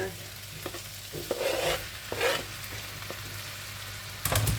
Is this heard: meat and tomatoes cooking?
yes